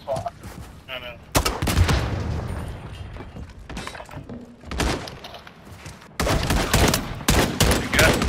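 Rapid bursts of gunfire and heavy impacts in a video game gunfight crackle loudly in several dense volleys, separated by brief quieter stretches with faint voices.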